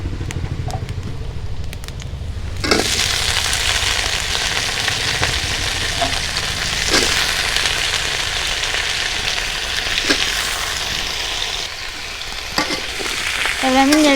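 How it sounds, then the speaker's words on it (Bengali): Moringa drumsticks and potato pieces fry in hot oil in a wok while being stirred: a loud, steady sizzle runs throughout, with scraping stir strokes and occasional sharper crackles. "এবার আমি নেড়ে ছেড়ে হালকা একটু ভেজে নেবো সজনের ডাঁটা আর আলুগুলো।"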